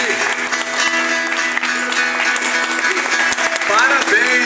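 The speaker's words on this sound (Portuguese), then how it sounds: "Gostaria que vocês ficassem de pé para aplaudir." An audience stands and applauds at the inauguration of a literary academy in Presidente Epitácio, São Paulo, with steady, dense clapping filling the room and a few voices and a brief whistle rising over it.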